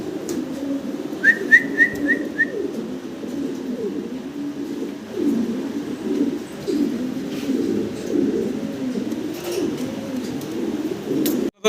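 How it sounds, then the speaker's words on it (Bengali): A pair of Lahori pigeons coo continuously in low, throaty rolling calls, with a brief series of high whistled chirps near the start. "আমরা দেখতেছি এক পেয়ার লাহোরি কবুতর"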